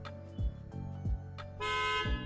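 A car horn sounds toward the end as a steady, sustained honk, heard alongside recurring low thumps in an indoor setting.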